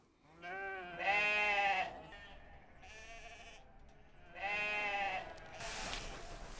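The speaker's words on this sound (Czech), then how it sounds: "Bečení ovcí je přesné jako hodiny." Sheep on a large Chinese farm flock of over two thousand animals bleat loudly in several long, wavering calls, overlapping one another at close range with no talk.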